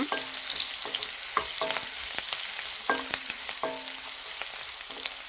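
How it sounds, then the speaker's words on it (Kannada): Chopped onion frying in a pan for a village-style mango curry, a steady close hiss broken by regular clinks and scrapes of a spatula, with no voices. "ಈ ಜೊತೆಗೆ ನಾನು 1 ಸಣ್ಣ ಈರುಳ್ಳಿ ಹಾಕಿದ್ದೀನಿ ಕಟ್ ಮಾಡಿ. ಅದನ್ನ ಚೆನ್ನಾಗಿ ಫ್ರೈ ಮಾಡೋಣ"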